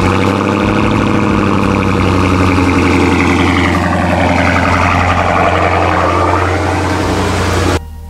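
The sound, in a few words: cold start of a 2012 Dodge Charger engine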